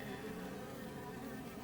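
Honey bees buzz at the hive in a faint, steady, low drone that lasts under two seconds with no pauses.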